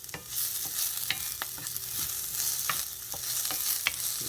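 Vegan sausage and onions sizzle steadily in a frying pan while a utensil stirs them, its scrapes and taps landing as sharp clicks every half second or so over the continuous close frying hiss, with no talking.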